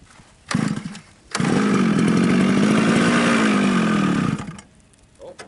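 A small engine on a snow vehicle sputters briefly, then catches and roars loudly and close for about three seconds, its pitch rising and falling with throttle before it cuts out.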